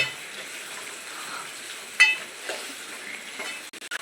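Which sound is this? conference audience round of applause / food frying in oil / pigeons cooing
food frying in oil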